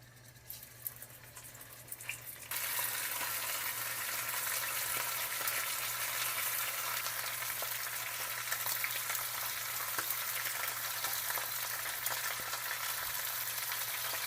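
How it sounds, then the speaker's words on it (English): Oxtail beef searing in hot lard in a pan bursts into a loud, dense, continuous sizzle after a quieter start, holding steady and close with no talking. "First, we're gonna add in some lard, and now we're gonna start searing our meat."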